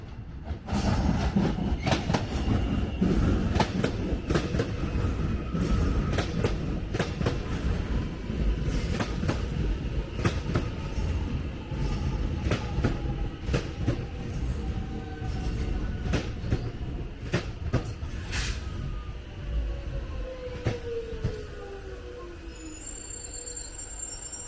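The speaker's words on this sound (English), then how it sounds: "So here we have that train that's coming into town." A modern train rolls past close by at Clifton Hill Railway Station, Victoria, steady rumbling with rhythmic clacking wheels and occasional squeals, continuous for the whole stretch without any talking.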